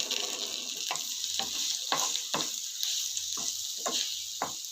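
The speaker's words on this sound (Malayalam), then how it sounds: "നെയ്യ് ചേർത്തിട്ട് പഴം നന്നായിട്ട് വഴറ്റിയെടുക്കാം" Nendran banana sautés in ghee in a pan with a steady bright sizzle, punctuated by regular scraping stirs of a spoon against the pan.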